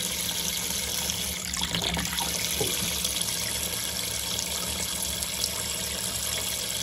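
Water flows steadily from a household tap after its hot and cold plumbing has been descaled, a constant close hiss and splash that lasts the whole time without a break and with no one talking.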